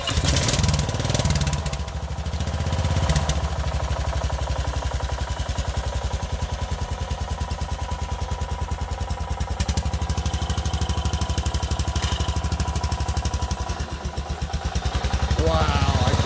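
A repaired mud mower engine runs loud and close after being given gas, a steady rapid chugging throughout that rises briefly near the start and again at the end.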